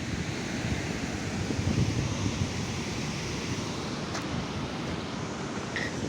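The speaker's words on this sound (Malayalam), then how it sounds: "ഞാൻ കണ്ടിട്ടുള്ളതിൽ വെച്ച് ഏറ്റവും മനോഹരമായ ഒരു വാട്ടർഫാൾസാണ്." Kattikayam waterfall inside a forest: a steady, dense rush of falling water, constant and fairly loud, with no voices.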